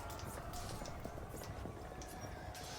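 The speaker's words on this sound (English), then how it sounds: "I hear horses riding." Horses galloping into battle in Europa Universalis IV, a dense, steady clatter of hooves over a thick mix of game battle noise, with no voices over it.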